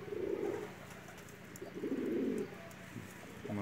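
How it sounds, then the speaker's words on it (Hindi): A pair of Pakistani Bataira pigeons, a male and a female, give soft, close coos in a few separate rumbling bursts, with faint background noise. "ये जी मियाँ वाली वाला बटेरा नारा और बटेरी"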